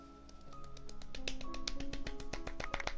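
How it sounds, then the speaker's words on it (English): A Genshin Impact character claps in a quick, steady run of light, crisp claps over soft sustained game music. "Oh yay, she actually clapped."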